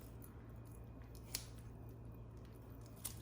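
Kitchen scissors snipping through a whole raw chicken, two faint sharp clips with soft quiet handling noise between them.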